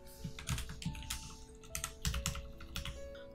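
Keys clatter on a computer keyboard in quick irregular bursts of close, light clicks, with short pauses between runs of typing, over a faint steady background hum.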